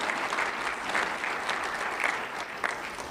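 A large convention audience applauds during a keynote address, a dense, even wash of clapping from many hands, sustained and fairly loud throughout with no voices over it.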